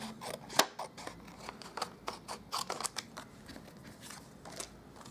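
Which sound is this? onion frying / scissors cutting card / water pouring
scissors cutting card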